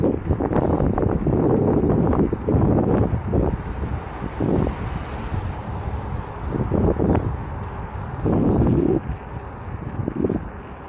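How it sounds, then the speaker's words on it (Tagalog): Headwind roars across the microphone of a mountain bike rider on a dark, unlit ride, a loud continuous buffeting rush with surging gusts and no talk. "Pasalubong ang hangin eh."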